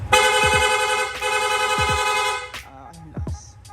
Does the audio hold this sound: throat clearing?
no